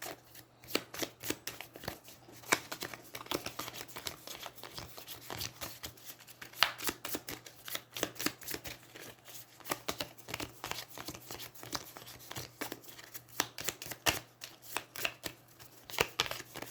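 Close, crisp riffle-shuffling of a deck of cards during an Aeons End board game, quick irregular snaps and flutters repeating throughout, with no talking.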